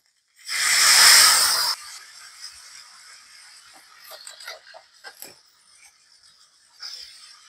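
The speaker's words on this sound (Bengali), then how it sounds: "এখন পরিমাণ মতো জল দিয়ে দেব।" Water poured into a hot pan of sautéed potatoes and bitter gourd: a loud, close hissing rush for about a second, then quieter bubbling and crackling with a brief hiss near the end.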